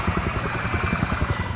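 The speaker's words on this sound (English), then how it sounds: "It's a chopper." Helicopter in the video game Primal Carnage Extinction, a steady close rotor chop with rapid even beating over a dense engine drone, heard alone.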